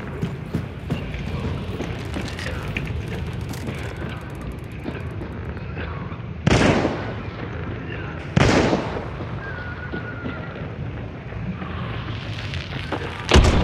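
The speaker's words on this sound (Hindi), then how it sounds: "मैं पटाखा फोड़ा।" Firecrackers burst twice in Hunt Showdown, each a sharp, loud crack standing out against a steady background rumble, with a third pop at the very end.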